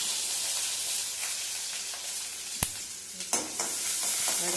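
Cut onions go into a pan of popped mustard seeds for upma, giving a steady, fairly quiet frying hiss with a few sharp scrapes and clinks of stirring near the end.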